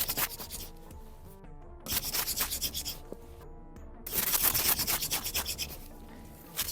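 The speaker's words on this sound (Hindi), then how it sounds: "अभी देखें किस तरह से मैं घुमा रहा हूँ इसको, और आप देखें आवाज़, अब देखें धुआं निकलना शुरू हो गया है" A wooden stick spun by hand in a friction fire drill grinds against its base with steady, raspy rubbing in close, loud bursts, briefly pausing twice before resuming more intensely until smoke appears.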